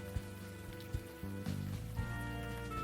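Rain falling on a city street in the point-and-click adventure game Unavowed, a soft steady patter and hiss under low ambient music tones, faint and continuous without voices.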